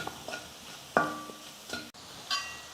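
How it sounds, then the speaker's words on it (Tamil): Chili-powder masala being sautéed in a pan for a yam fry, with soft stirring scrapes and a quiet sizzle recurring in short bursts, close and faint with no talking. "மசாலோட பச்சை மணம் போகிற அளவுக்கு நல்லா வதக்கிக்கலாம்"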